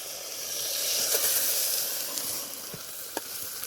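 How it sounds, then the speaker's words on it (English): A steady, close crackling sizzle rises from Monterey Jack sausages frying over a wild campfire in Scotland, swelling slightly in the middle, with a few sharp pops and spits toward the end and no voices. "Right, sausages are cooking."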